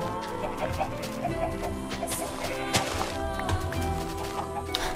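Chickens clucking in the Minecraft video game, steady repeated clucks and bird calls over a continuous background bed, with no talking.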